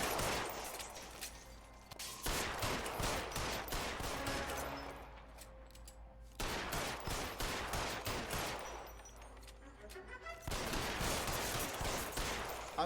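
Sustained bursts of gunfire from an LA Noire shootout, dense rapid volleys of shots filling most of the span with brief lulls between bursts, loud and close with no talk.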